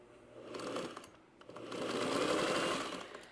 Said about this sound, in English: I'll lift up my presser foot, and I'm just going to start stitching.